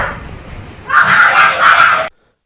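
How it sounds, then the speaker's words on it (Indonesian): A person inside a jail cell screams hysterically, a loud, sustained wailing cry in rising bursts after a quieter stretch of murmuring, then cutting off abruptly. "teriakannya itu sangat luar biasa kencang"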